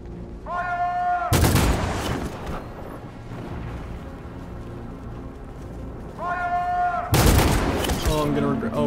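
Gunfire after an order to fire in Detroit: Become Human, two loud, close, sharp bursts of shots, each preceded by a rising whine, separated by a tense low ambient rumble.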